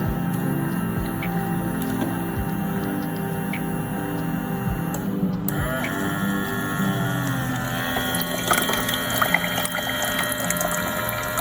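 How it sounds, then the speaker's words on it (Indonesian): Electric motors of a household waste treatment system for making compost run continuously with a steady mechanical hum and whirring tones, joined by a second motor's rising whine partway through, alongside trickling water. "Nah, dia motornya akan bergantian hidup. Nah, motornya ini akan bergantian hidup."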